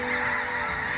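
A flock of migrating geese honks continuously, a dense, loud chorus of overlapping calls close by, with no talk.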